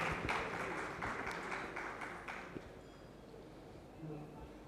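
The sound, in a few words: audience applause welcoming the dignitaries on stage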